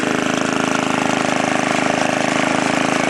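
A 1953 Sears Craftsman reel power mower running steadily, its small engine giving a loud, even buzzing drone with rapid regular pulses, close by and alone.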